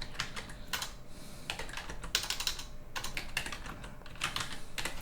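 Steady typing on a computer keyboard, a continuous close run of soft key clicks with brief pauses, heard alone without talk.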